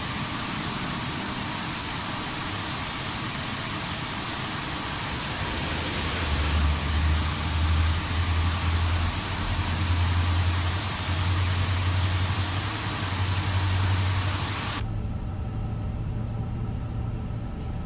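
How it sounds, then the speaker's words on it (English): A British Airways A350-1000's number 2 jet engine spooling up on start at the gate, heard from inside as a steady broad roar with a low droning hum rising and holding, no talk over it. "Alright, ground. We've got 2 good engine starts."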